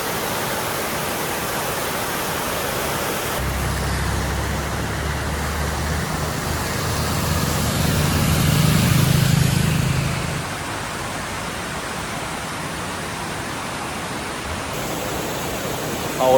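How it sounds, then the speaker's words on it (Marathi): Heavy monsoon rain pours near a waterfall at Malshej Ghat, making a dense, steady roar of rushing water that swells briefly in the middle, and no one speaks. "हे बघा पाऊस आलाय खूप"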